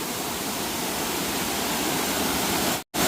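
A Konkan waterfall roars as a dense, steady rush of falling water, loud and unbroken, with one brief dropout near the end.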